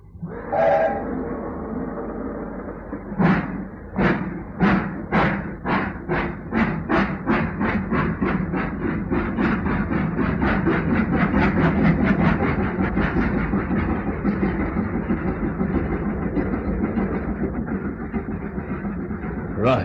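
A steam train chugs in accelerating rhythmic puffs that blur into a steady rumble with clattering wheels, loud and close, with a voice speaking over it.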